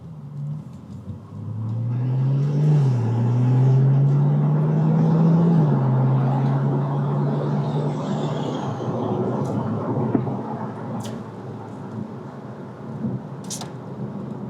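A 2012 Porsche 911 Turbo S pulls out onto the road, its engine a steady low rumble that swells and rises in pitch as it accelerates, then settles into a lighter cruising drone.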